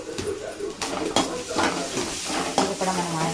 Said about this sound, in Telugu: ఇది కూడా మనం ఆయిల్లో ఫ్రై చేసుకుందాము.